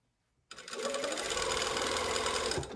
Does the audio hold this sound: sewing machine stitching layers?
yes